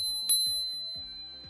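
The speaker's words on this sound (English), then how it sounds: "you have a bell on the left side" A single sharp ding of a small handlebar bell on a Freego F12 electric scooter rings out clearly, its bright tone lingering over a quiet background.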